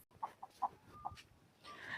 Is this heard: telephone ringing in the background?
no